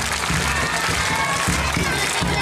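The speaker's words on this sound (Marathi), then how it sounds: "पुन्हा एकदा जोरदार टाळ्या." An audience at a school prize distribution ceremony applauds in a dense, steady wash of clapping that holds strong and even from start to finish.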